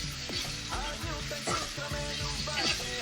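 Prepared paste being mixed into cooked tomato in a pan for tamarind chutney, with soft stirring and a light sizzle running under a steady tonal background.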